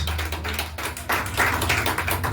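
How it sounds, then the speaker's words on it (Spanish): A church congregation applauding, a dense, continuous patter of many hands close and fairly loud, swelling slightly in the second half with a low hum underneath. "Denle un fuerte aplauso al Señor"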